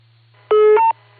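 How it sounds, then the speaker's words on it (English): A short pair of electronic tones from an amateur radio repeater reset, one stepping to a higher pitch, over a steady low hum. "I got all the beeps reset"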